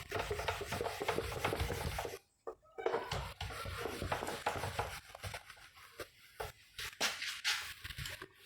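Rubbing out writing on a board during a mathematics class, a close, scratchy rasping rub in repeated strokes with brief pauses, fairly quiet overall.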